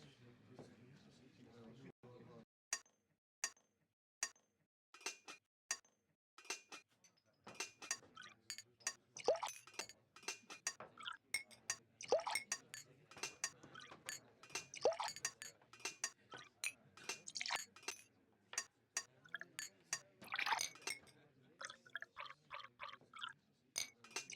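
Rapid glass clinks and bursts of pouring and splashing liquid while mixing drinks at a bar in Nancy Drew: The Haunting of Castle Malloy, irregular and busy, with a voice speaking in places.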